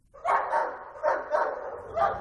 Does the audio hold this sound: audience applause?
no